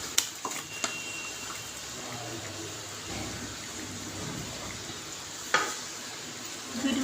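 Fried rohu fish pieces go into a simmering curry masala, with gentle sizzling and bubbling throughout, a few sharp clinks of a spoon against the pan, and soft stirring scrapes near the end.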